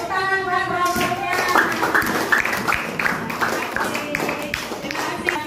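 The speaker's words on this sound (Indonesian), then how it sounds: "Tepuk tangan buat robotnya." Children in a classroom applaud a classmate playing a robot, with a patter of close claps and taps running under talking voices.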